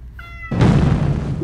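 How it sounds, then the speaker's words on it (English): Basil the house cat gives a single close, loud meow that opens with a brief tonal cry and widens into a breathy, drawn-out call lasting about a second. "Basil, my cat, is here to join us."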